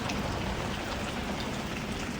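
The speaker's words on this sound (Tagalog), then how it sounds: "Umuulan ngayon." Heavy rain pours in the early evening amid strong wind, a dense, continuous hiss of drops hitting surfaces that stays steady and loud from start to finish, with no voices.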